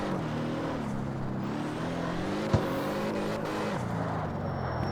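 A front-wheel-drive car in the CarX Street racing game accelerates slowly at low revs, its engine note climbing steadily and alone, with a brief click midway.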